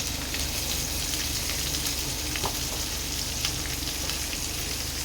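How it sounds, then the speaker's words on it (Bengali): Raw mango pieces with turmeric and salt fry in a pan for a sweet chutney, giving a loud, unbroken sizzle with faint crackles and an occasional light stir, nearby and without speech. "এবার আমি এটাকে ভালো করে ভেজে নেব।"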